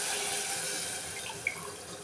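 Water poured from a glass into a pressure cooker of carrot-potato pulao, a steady close splashing stream that runs the full two seconds, with one brief clink near the end.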